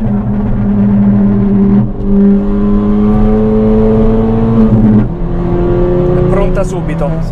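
A Ford Fiesta ST200 with a 1.6 engine accelerating hard, its loud, close engine note climbing steadily in pitch, briefly dropping near the five-second mark as if shifting gear, then pulling upward again.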